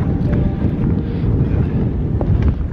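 Cold wind gusting across an outdoor ice rink, a steady loud rumbling buffet against the microphone throughout, with no voices.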